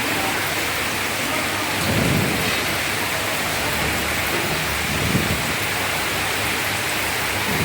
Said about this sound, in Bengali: সকাল থেকে ডিপ ডিপ বৃষ্টি হচ্ছে আর বৃষ্টি উঠোনে অনেক পানি